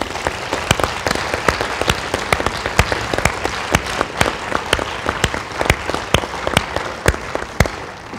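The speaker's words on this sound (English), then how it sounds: "could we give the council candidates a round of applause" An audience at a Provo city council candidate debate applauds the council candidates, a dense, steady round of clapping that holds for several seconds with sharp individual claps standing out near the front, with no talk over it.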